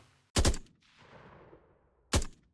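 Two loud, close bursts of M4-style rifle fire in a Vietnam-era first-person shooter game, each a tight three-round burst of sharp cracks, separated by a fading echoing tail about two seconds apart.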